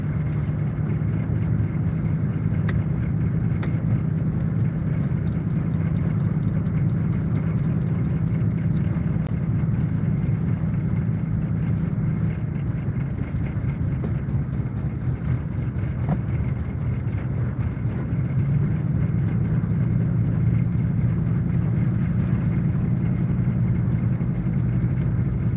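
Steady low rumble of a car driving over a rough, broken road, continuous road and engine noise with a buffeting interior drone throughout and no talk.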